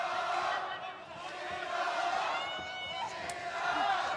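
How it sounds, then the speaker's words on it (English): Crowd at a kickboxing fight between Shiro and Vladyslav Mykytas, roaring and cheering in a sustained wash of voices, with a commentator talking over the noise. "The crowd getting right behind Shiro here."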